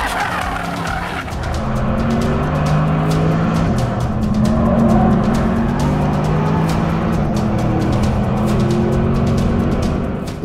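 A Porsche Panamera runs flat out on the Nürburgring Nordschleife, its engine roaring loud and close with shifting tones and tyre scrub throughout, no voices over it.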